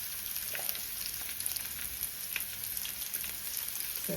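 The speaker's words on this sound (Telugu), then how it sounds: "ఇప్పుడు దీన్ని చెమసిమ్ములోనే ఉంచుకొని లైట్ బ్రౌన్ కలర్ వచ్చిన దాకా వేయించుకోండి" Sliced onions and green chillies frying in a pan until light brown, with a soft, continuous crackling sizzle and faint stirring taps, quiet and steady with no talk.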